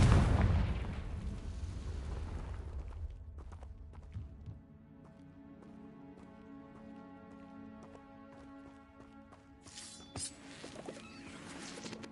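Confringo spell blast in Hogwarts Legacy: a loud booming explosion at the start that rumbles and decays over a few seconds, followed by quieter tonal ringing and a faint later burst.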